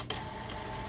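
An HP Officejet 4500 printer feeds a sheet of paper, a steady mechanical whir and hum running continuously at moderate level with a small click near the start.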